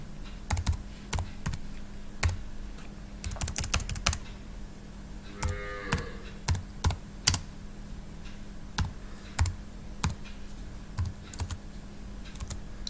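Keys clack on a computer keyboard while text goes into a word processor, in irregular bursts of quick taps and single strokes, close by with a faint steady hum behind and no talking.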